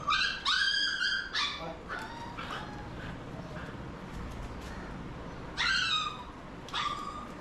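A hunting dog whimpers and yips in high, wavering whines, a cluster at the start and another near the end, with quieter background noise between.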